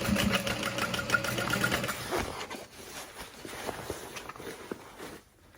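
A sewing machine stitches along the bottom main panel of a Trailblazer backpack, right beside the stabilizer about 3/8 inch from the edge: rapid, steady motor-driven stitching up close, easing into quieter, intermittent mechanical clicks and rattles, with no talking.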